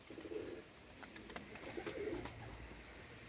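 Pigeons coo repeatedly inside a loft of racing and homing birds at a pigeon village in Eskişehir, Turkey, with soft low throaty calls rising and falling over about three seconds amid a busy room tone.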